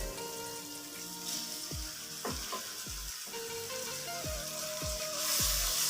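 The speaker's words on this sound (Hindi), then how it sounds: "इसको हम एक दफ़ा इस तरह भून लेंगे।" Capsicum frying in a cooked masala for chicken macaroni, a steady soft sizzle with repeated stirring knocks and scrapes of a spoon against the pan.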